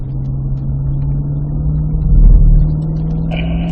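A Cadillac CT5-V Blackwing with a six-speed manual accelerates on a wet track at Spring Mountain in Pahrump, its engine holding a steady, loud drone that swells briefly and then settles.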